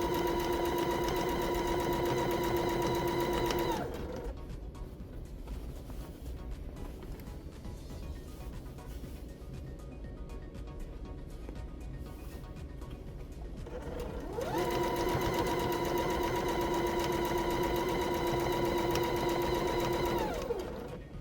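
A sewing machine stitches fabric for a reversible door bow in two long bursts of rapid, steady whirring, close and clear, with a quieter stretch of handling noise between them.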